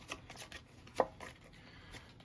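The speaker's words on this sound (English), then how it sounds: "I'd shuffle these cards" Board-game cards being shuffled by hand during a solo game of Railways, a faint, soft patter of quick riffles with one sharper snap of card stock midway.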